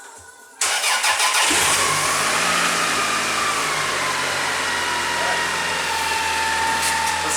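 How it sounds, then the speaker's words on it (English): A Toyota Camry engine cranks briefly and catches, then settles into a steady idle with a mid-pitched hum and faint whine, recorded close by and continuing for several seconds without talk. "time to run the Camry for 5 minutes"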